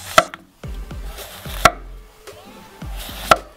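Three sharp knife chops slice zucchini into rounds about 1.5 cm thick on a cutting board at an even, unhurried pace, with soft scraping and handling sounds between them.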